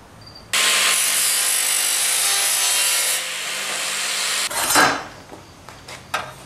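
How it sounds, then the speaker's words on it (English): Sheet metal being cut out for an Allis Chalmers 310 tractor restoration: a loud, steady, harsh cutting noise runs for about four seconds, then stops and gives way to a few scattered metallic clatters and knocks. "I've traced out the piece on a piece of sheet metal. I'm going to cut it out."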